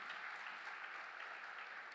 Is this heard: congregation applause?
yes